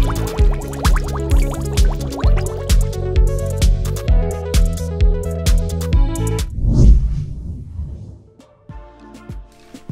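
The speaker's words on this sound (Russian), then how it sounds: "Возьмем стакан чистой воды и вольем туда наш стакан с маслом и красителем." A glass of oil mixed with food coloring is poured into a glass of clean water, a brief splashing gush that rises suddenly near the end and then fades, with steady musical tones playing before and around it.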